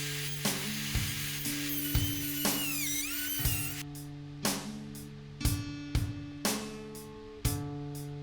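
Power tool cutting wood in a dovetail jig for a record player cabinet, a series of sharp evenly spaced knocks and bursts over a steady motor hum, close and moderately loud.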